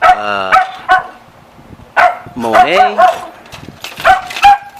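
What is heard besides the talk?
dog barking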